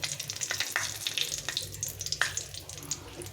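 Dried red chillies, nigella seeds and radhuni tempering in a little hot oil for a fish curry, a steady close crackling sizzle with bright spitting pops throughout.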